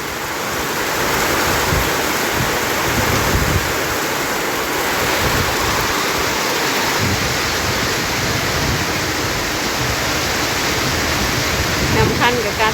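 Heavy rain falls steadily and loudly as a dense, continuous hiss that fills the whole stretch without a pause, with no voices over it.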